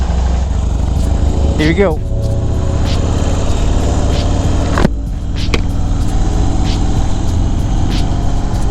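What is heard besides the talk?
Harley-Davidson Fat Bob motorcycle engine riding off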